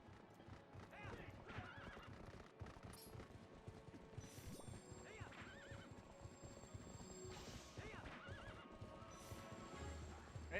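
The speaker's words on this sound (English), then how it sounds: "Horse." Horses whinny several times amid rapid clip-clopping hooves and clattering during horseback combat in The Legend of Zelda: Twilight Princess, with a few loud neighs standing out and a voice speaking briefly.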